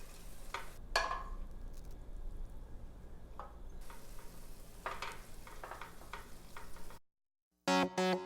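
Leafy greens with flower seeds and currants stirred in a hot pan: a soft steady sizzle broken by scattered scraping clicks of the utensil, then a short silence and a brief burst of music at the end.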